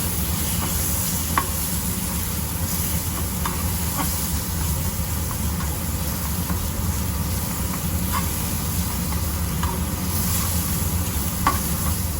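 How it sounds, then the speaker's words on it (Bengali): Ground spice masala of coriander, cumin and dry chili powder fries in a pan for a yogurt fish curry, giving a steady, close sizzle with a spoon scraping and stirring every couple of seconds and no talking. "এরপর ভালো করে মশলাটাকে কষিয়ে নেব"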